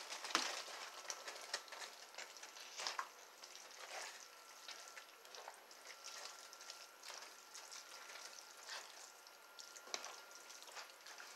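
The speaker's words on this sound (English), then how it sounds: "Go ahead and add that over into your sauce mix. You want to get that mixed up in there." Spaghetti noodles are folded and stirred into a sizzling sauce, giving a soft, steady crackle with scattered wet clicks and scrapes, close by and fairly quiet, with no talking.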